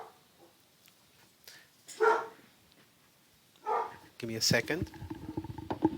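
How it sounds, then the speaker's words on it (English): Dogs bark in the background of a home recording, a few short bursts from nearby pets, with a spoken line briefly heard over them. "sorry about my dogs"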